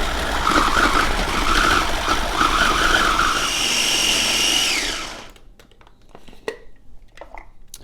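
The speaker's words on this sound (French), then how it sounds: "Et on va mixer les figues, donc comme ceci." A blender whirs loudly as it purées figs with water, a steady high-pitched motor drone that cuts off about five seconds in, followed by a few quiet clicks and knocks.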